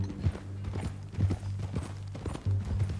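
Horse hooves in Red Dead Redemption 2 clip-clop in a steady walking rhythm, close and fairly loud, with a low electronic hum underneath.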